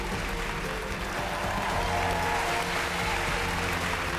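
An audience on a televised Vietnamese impersonation show applauds loudly and steadily, a dense, continuous wash of clapping with no pause.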